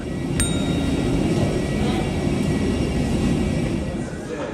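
Airplane at Komodo Airport in Flores after landing, a steady loud engine roar filling the whole stretch with one brief sharp click near the start.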